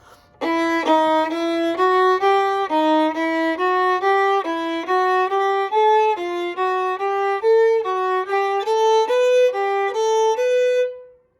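A bowed violin plays the opening two measures of Schubert's Unfinished Symphony, a slow, steady line of sustained notes, one after another, clear and close with no talking.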